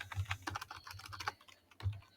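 Quick bursts of keystrokes on a computer keyboard while writing HTML text, a rapid cluster of close, soft clicks, a brief pause, then one more tap.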